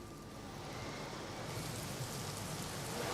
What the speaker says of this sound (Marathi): मुंबईमध्ये रात्रीपासूनच मुसळधार पाऊस बरसतोय।